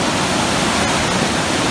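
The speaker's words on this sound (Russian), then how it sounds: "Еще один сброс воды." Water released into the Montanejos gorge rushes like a waterfall, a loud, dense, unbroken roar filling the whole clip without any voices.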